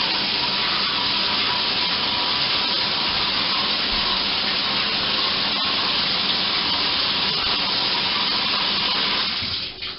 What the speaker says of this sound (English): start the water coming into the tub,